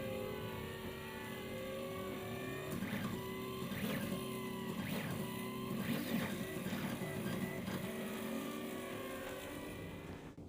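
A 3D printer prints fuselage parts slowly, its stepper motors whining in rising and falling tonal sweeps with short repeated beeps, all over a steady mechanical hum that stays close and moderately loud.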